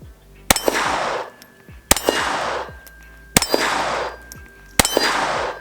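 A Sig Sauer P322 .22 pistol fires four evenly spaced shots, and each one is followed by a sharp ringing clang from a steel target, loud and outdoors, with no talking.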